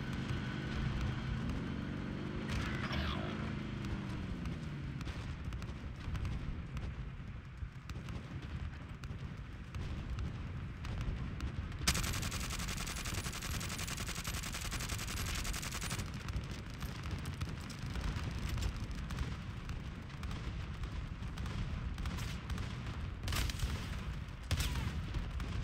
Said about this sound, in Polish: Pociąg strzela wybuchowymi pociskami